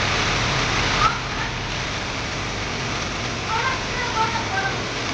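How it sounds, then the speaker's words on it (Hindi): Heavy rain pours down during a violent storm, a dense, steady broadband roar that stays loud and unbroken throughout, with a few faint voices in the background. "कितना गजब बारिश हो रहा है भाई।"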